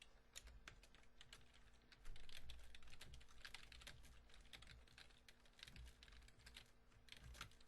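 Typing on a computer keyboard while writing a Python code comment, a steady run of close, crisp key clicks with uneven rhythm and no voices.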